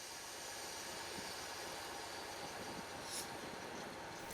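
Steam locomotive 73129, a 73-ton engine on the Gloucestershire Warwickshire heritage railway, gives a faint, steady distant rumble with a brief brighter burst near the end.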